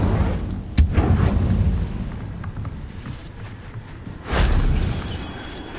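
The Incendio fire spell from Hogwarts Legacy goes off twice as booming, whooshing bursts several seconds apart, the second longer and more sustained, over a dense rumbling game soundscape.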